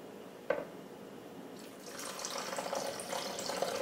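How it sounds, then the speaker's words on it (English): Water is poured into a pot of tomato soup with roasted red pepper, a brief drip at first followed by a steady, close splashing pour that builds toward the end. "I'm just going to add 1/2 of the water now."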